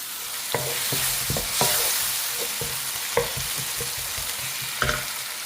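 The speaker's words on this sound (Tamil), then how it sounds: "வெங்காயமும் தக்காளியும் நல்லா வதங்கிடுச்சு" Onion and tomato sauté in a hot pan with a continuous sizzle, while a spoon stirs and scrapes at irregular intervals, giving sharp knocks over the frying hiss.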